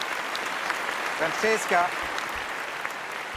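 Audience applause at a presentation of a reportage from Tunis, a steady wash of clapping with someone briefly speaking over it in the middle.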